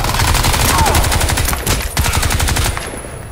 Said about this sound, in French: Attendez, on va sortir la mitraillette